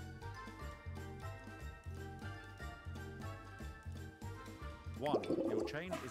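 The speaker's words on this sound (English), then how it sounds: "Flush the toilet." A toilet flushing in the Taskmaster VR video game, a short gurgling rush of water near the end, heard over steady looping background music.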